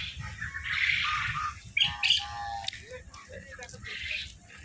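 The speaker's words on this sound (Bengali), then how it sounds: "এ দেখো এখানে কোয়েল পাখি আছে, বড় বড় হাঁস আছে" Quail and large ducks chirp and squawk in short bursts over a low, rumbling background, with some calls sharper and nearer than others.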